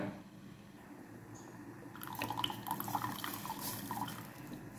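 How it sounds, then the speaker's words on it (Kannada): After a quiet start, tamarind juice pours and splashes into a hot pan, a bubbling, sputtering wash that continues to the end. "ನಾನು ಹುಣಸೆಹಣ್ಣಿನ ರಸ ಹಾಕ್ತೇನೆ ಇವಾಗ"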